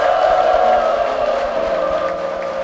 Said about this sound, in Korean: 여러분 축복의 박수